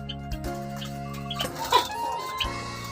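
Zebra doves kept together in a cage give soft, repeated cooing and clucking calls close by over a steady low background, with a few short louder bursts and no talking.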